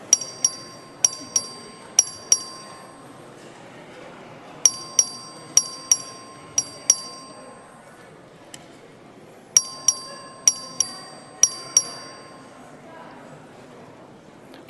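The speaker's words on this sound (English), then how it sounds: "The clerk will ring the bell." A voting bell in a legislative chamber rings in repeated bursts of several sharp metallic strikes, three groups spaced a few seconds apart, clear over a low murmur of room noise.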